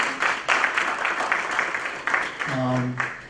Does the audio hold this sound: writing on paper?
no